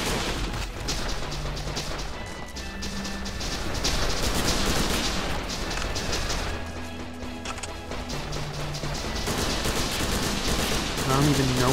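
Dense, continuous gunfire and crashing impacts from the indie Japanese first-person shooter game The Legend of Alfur, loud and sustained for the whole stretch with no pauses.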